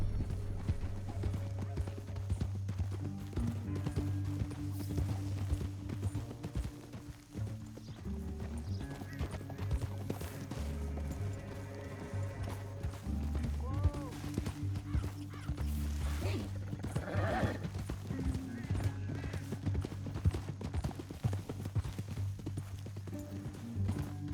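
Rapid hoofbeats gallop continuously beneath a steady Red Dead Redemption 2 music score, with occasional horse whinnies and snorts cutting through.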